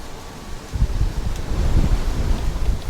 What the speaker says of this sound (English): It has got really windy.